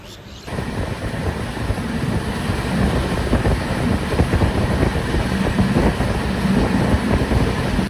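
A steady low rumble and rattle of the Darjeeling Mail train moving between Sealdah and New Jalpaiguri, continuous and fairly loud after a brief quiet start, with a broad windy roar throughout.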